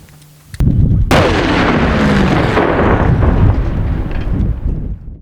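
A sudden, powerful blast from a shaped demining charge in Kharkiv region erupts after a brief quiet moment, followed by a long, loud rumbling roar that slowly fades.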